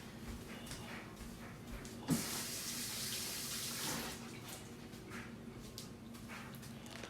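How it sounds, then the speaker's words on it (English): Tap water runs and splashes into a sink as hands are washed, a brief clunk as the flow starts, then a steady rushing stream with faint background noise. "I'm gonna wash my hands."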